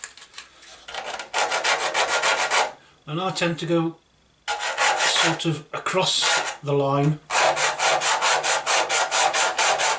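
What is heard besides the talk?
sanding model body with 320 grit sandpaper wrapped on dowel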